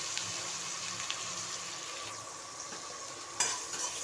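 Garlic cloves fry in hot oil in a pan for a dhaba-style paneer dish, a soft steady sizzle with occasional stirring clinks and one sharper scrape near the end.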